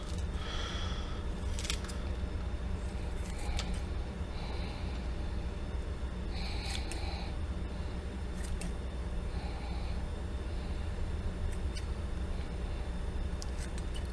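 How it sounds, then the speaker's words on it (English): Garlic roots being snipped with scissors or shears, a handful of sharp, crisp cuts spread over a steady background rumble, fairly close, with no voices. "We're going to go ahead and cut our roots."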